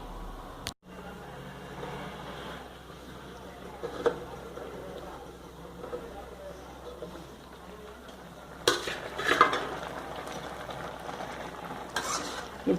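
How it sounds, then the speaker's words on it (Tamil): A metal plate is set down as a lid over a pan of simmering avial vegetables, giving a couple of sharp clanks and scrapes over a low bubbling sizzle, close and fairly quiet. "இது சேர்த்து இப்போ ஒரு தட்டு போட்டு மூடி வச்சு இந்த காயை வேக வச்சுக்குவோம்"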